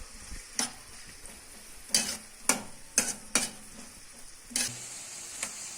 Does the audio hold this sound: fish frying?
yes